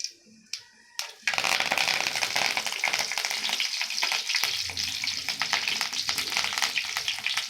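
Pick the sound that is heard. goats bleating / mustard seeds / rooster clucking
mustard seeds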